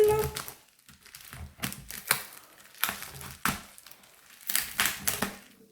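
Bubble wrap packaging from an AliExpress parcel is pulled and unwrapped at close range, making bursts of crinkling, crackling rustles in irregular handfuls separated by short pauses.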